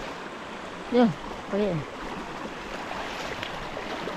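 A river stream flowing in a forest, a steady broadband wash of water close by, with someone briefly speaking over it early on.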